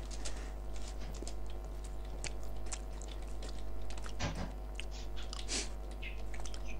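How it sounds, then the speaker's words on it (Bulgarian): Milka Alpine milk chocolate being bitten and chewed close to the mic, crunchy chomping repeated irregularly over a steady background of computer game sounds, including a sharp burst midway. "О, че си хапна шоколад."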